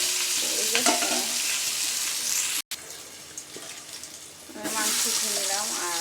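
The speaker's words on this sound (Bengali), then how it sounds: "আর একটু মাংসটা একটু ভেজে নিচ্ছি।" Meat fries in a pan of oil with a steady, close sizzle and stirring, broken by a brief gap and a quieter stretch before the crackle swells loudly again.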